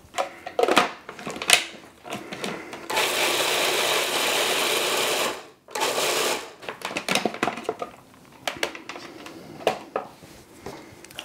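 A food processor whirs steadily as it purees sambal oelek chili paste, one sustained loud run of several seconds framed by clattering and scraping of the bowl and lid before and after, with no talking.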